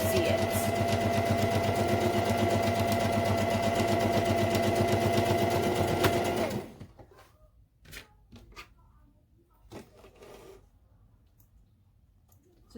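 A sewing machine runs a basting stitch through cotton fabric, giving a steady, loud, rapid mechanical whir for about six seconds before stopping, then soft handling clicks and rustles.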